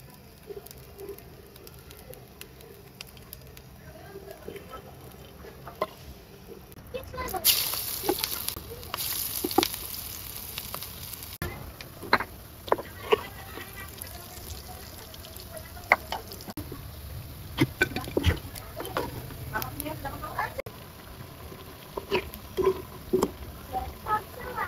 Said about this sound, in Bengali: পেঁয়াজু আর আলুর চপ ভাজার পরে এখন বেগুনি ভাজার পালাম